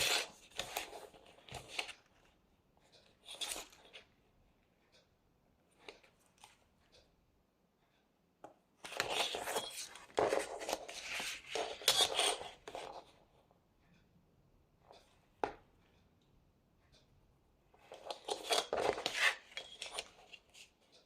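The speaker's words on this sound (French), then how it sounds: "on va faire un trait à 5 cm du bord" A pencil drawing a line on paper for an explosion box and folio craft, heard as close, faint scratchy strokes in several bursts separated by quiet pauses, with no talk.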